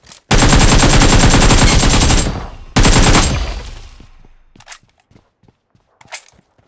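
Gunfire in the video game PUBG Mobile: two long, loud bursts of rapid automatic fire, followed by a scatter of faint single shots and small impacts fading out.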